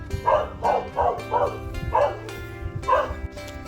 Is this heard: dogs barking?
yes